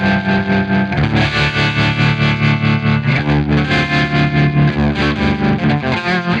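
A distorted electric guitar plays sustained chords and notes through a tube amp's reverb and tremolo, with a wavering, echoing texture throughout, loud and alone.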